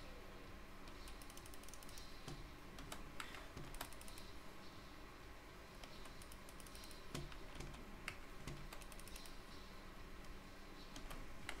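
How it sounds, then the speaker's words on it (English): Computer keyboard keys click steadily and quickly throughout while someone plays the game Ghostrunner, a dense run of close, fairly quiet taps with occasional sharper strokes and no talking. "You can hear my very audible clicking."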